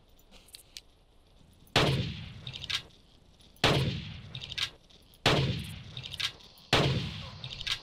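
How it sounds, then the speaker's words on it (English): Mauser rifle shots in the Carnivores video game: four loud, evenly spaced booming reports, each ringing out with a long decaying tail, with faint clicks and handling sounds between. "So it might only take two shots from the Mauser to take down a Scorpion."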